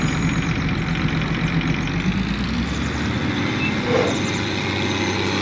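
Tractor engine in the Farming Simulator 19 video game, a steady low mechanical drone running continuously at moderate level with no talk over it.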